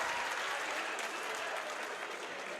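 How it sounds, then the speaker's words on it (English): Basketball fans under the basket cheer and shout steadily through free throws at a high school state tournament semifinal, a loud, dense crowd roar that carries on without a break. "the Colonia faithful under the basket are attempting to distract Noah with their cheering"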